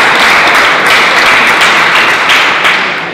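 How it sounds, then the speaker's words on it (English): An audience at a clean energy expo gives a loud, close burst of dense clapping that stays steady for a few seconds, then eases slightly at the end. "give yourselves a round of applause"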